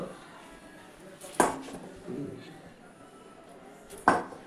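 A knife cuts boiled baby corn into pieces for chili baby corn at home, two sharp chopping knocks on a board about three seconds apart, close and fairly quiet with a soft clatter in between.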